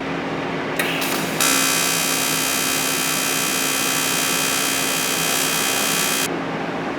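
Beginner TIG welding on aluminum: a steady, loud electric buzz and hiss that starts abruptly after a brief sputter, holds evenly for several seconds, then cuts off cleanly, with a low hum underneath and no talking.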